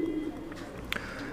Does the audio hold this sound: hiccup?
no